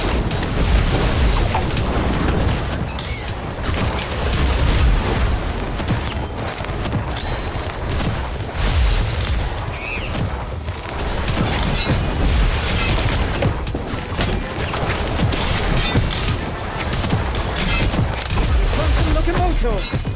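Spell explosions, booms and bursts of magic in the Harry Potter: Magic Awakened mobile game, including the Bombastic Bomb spell, ring out loud and dense over game music and battle noise, with a voice calling out spells.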